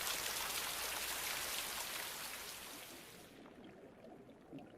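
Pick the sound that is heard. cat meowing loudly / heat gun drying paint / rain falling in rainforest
rain falling in rainforest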